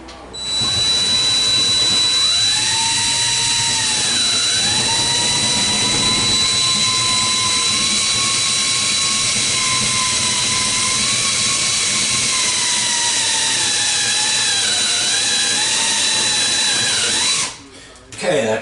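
A power drill bores through the metal frame of a Discovery trailer, whining loudly with a continuous high, slightly wavering pitch before cutting off near the end.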